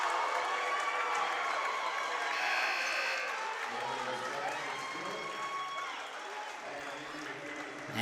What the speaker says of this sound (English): Ryan Engel gets the crowd and the team fired up.